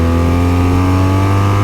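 A BMW RS motorcycle engine running loud and close, a steady, strong drone with a rising rev, no talking.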